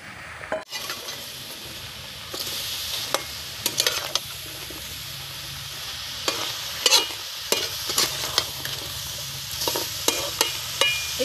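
Ridge gourd and shrimp frying in a pan in traditional Bengali village cooking, a steady sizzle under repeated scraping stirs and occasional light clinks of the utensil against the pan, close and fairly loud.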